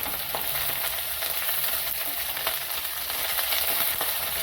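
Garlic sizzles in hot oil in a pan during Maharashtrian festive cooking, a constant close frying hiss with occasional light clinks and scrapes of stirring, and no talk.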